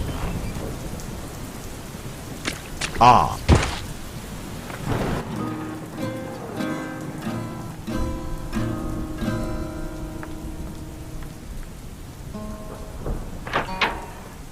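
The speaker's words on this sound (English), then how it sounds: "There's a thunderstorm raging outside." Thunderstorm with heavy rain, a steady hiss of rainfall broken by loud, booming thunder crashes, with musical tones and a brief exclamation mixed in.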